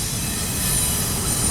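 A freight train hauling Pacer Stacktrain well cars rolls past close by in California railfanning country, a steady, loud rumble of wheels on rail with a thin high squeal riding over it.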